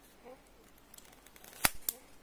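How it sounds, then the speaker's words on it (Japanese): Scissors cut a piece of foam in half while tying a floating bass fly, giving a couple of sharp, close snips near the end after soft handling noises, with brief speech early on. "ハサミ入れれば半分になると"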